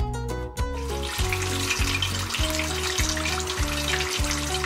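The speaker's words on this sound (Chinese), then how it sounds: "鸡腿下锅之后" Chicken drumsticks dropped into oil heated to 170 °C for homemade fried chicken, giving a steady close bubbling sizzle with crackling spatter, heard alone under a repeating musical backing.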